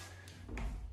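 A bathroom drawer from a bank of drawers in a brand-new single-wide manufactured home slides with a short soft scrape that ends in a low thump, heard close and quiet.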